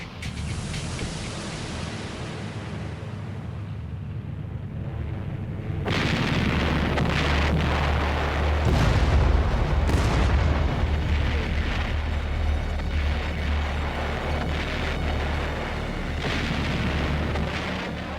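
A massive naval and artillery bombardment before the amphibious assault on Okinawa roars as a dense, continuous rumble of distant booms and blasts, growing heavier after a thinner opening stretch, with no voices.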